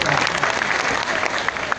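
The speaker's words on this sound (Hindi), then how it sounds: "इस प्यारी सी बच्ची के लिए एक जोरदार तालियां आप लोग बजा दीजिए।" A crowd of devotees at a Durga festival gathering in Bettiah claps loudly for a little girl, a dense, continuous burst of applause close by with no pauses.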